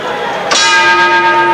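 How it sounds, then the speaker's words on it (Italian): A boxing ring bell clangs once to open the seventh round of a professional middleweight title fight, a sharp metallic strike followed by a long ringing decay over crowd noise. "Suona questa il gong della settima ripresa"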